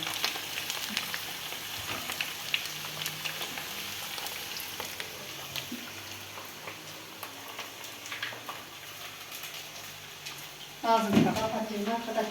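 Potatoes fry in oil, sizzling and crackling steadily in a pot, with a louder bubbling burst near the end and a voice speaking faintly underneath.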